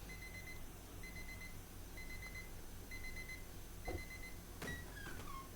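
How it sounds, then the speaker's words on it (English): Alarm clock in the video game Park Beyond rings in regular short beeping bursts, about one per second, against a low ambient game hum, with a brief sweeping tone near the end. "Who sets their alarm clock for 10:32?"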